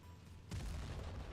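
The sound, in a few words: tank exploding in World of Tanks Blitz video game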